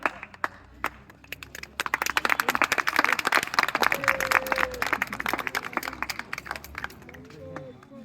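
Applause for a speaker named Devesh at a student organisation election event, as scattered claps grow into steady crowd clapping before thinning out again, with voices heard beneath it.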